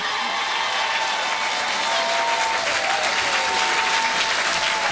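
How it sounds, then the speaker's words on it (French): A church congregation claps loudly and continuously, a dense even wash of applause with crowd voices mixed in, steady for the whole stretch. "Amen et acclame le Seigneur très fort."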